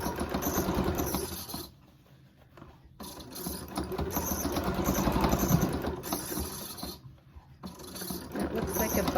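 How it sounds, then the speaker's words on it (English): A squeaky home sewing machine stitches around the opening of a non-medical fabric face mask, its motor whirring steadily in runs with a short pause as the work is pivoted, then resuming. "my machine sounds very squeaky"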